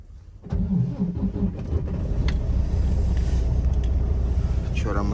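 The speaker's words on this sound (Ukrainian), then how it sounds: "Так, іду заводити машину." A car engine cranks and catches after a half-second of quiet, then settles into a steady, close running rumble for several seconds, with faint clicks and a voice briefly audible near the end.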